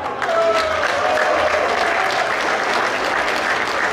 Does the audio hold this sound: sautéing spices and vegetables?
no